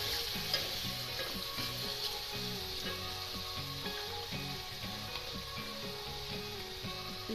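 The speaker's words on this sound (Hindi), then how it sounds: "चिकन हो गई हमारी फ्राई। अब इसमें टमाटर डालते हैं" Chicken fries in a pot for aloo chicken palak, with tomatoes and spices added: a steady, close, hissing sizzle runs throughout over a faint rhythmic background tone, with no talking.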